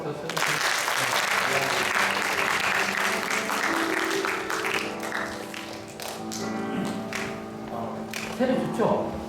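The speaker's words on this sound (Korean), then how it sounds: "크게 한번 박수 쳐주세요" Church congregation applauding after a baptism, a broad sustained wash of clapping that fills the clip, with voices and other sounds mixed in beneath it.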